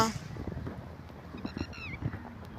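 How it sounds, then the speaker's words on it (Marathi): A few faint bird calls outdoors, short honking cries rising over a low background hum with soft sounds nearby. "आवाज येतोय ना पक्ष्यांचा"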